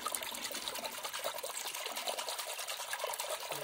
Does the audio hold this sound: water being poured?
yes